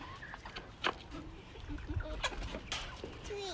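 Backyard chickens and a rooster clucking in a coop, soft scattered clucks and short calls at close range with faint background voices.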